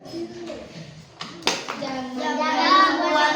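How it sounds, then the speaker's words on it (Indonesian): A few sharp hand claps from schoolchildren in a classroom, followed by overlapping children's chatter and voices. "tepuk tangan dulu"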